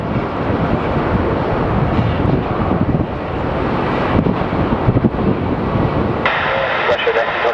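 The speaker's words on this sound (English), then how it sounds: "our WestJet from Saskatoon has landed" WestJet airliner arriving from Saskatoon, landing at Sky Harbor Airport, a steady loud broadband jet roar with heavy wind rumble on the microphone, building and shifting in tone toward the end.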